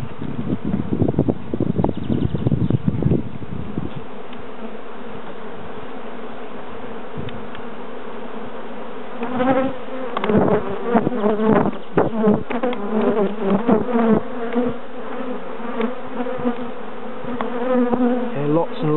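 Dense buzzing of many honeybees in an open hive during an inspection, close by, steady and continuous, with a louder low rumble at the start and brief rustling handling noises later.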